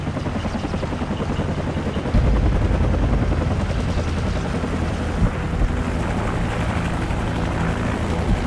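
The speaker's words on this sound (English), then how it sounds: "Take out that helicopter." Helicopter in Call of Duty 4: Modern Warfare during an SAS mission, a loud, steady rotor drone with low thumping that swells at about two seconds and then holds, heard alone without speech.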